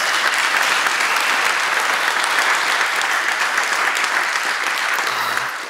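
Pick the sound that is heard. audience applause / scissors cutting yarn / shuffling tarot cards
audience applause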